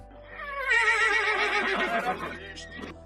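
A horse neighs anxiously beside a funeral cortege carrying a coffin, one long, loud whinny with a wavering, shaky pitch that rises and then fades after about two seconds, followed by faint snorting.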